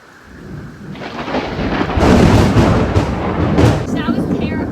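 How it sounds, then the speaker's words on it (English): A heavy rainstorm pours down steadily while loud thunder rumbles close by, swelling into a long, booming roll over the rain. "let you listen to the soothing sounds of the rainstorm"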